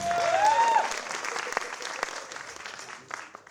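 A theatre audience at a provincial finals show claps in answer to a question about backgammon, a brief loud burst of applause with a voice over the start, then thinning out into scattered claps.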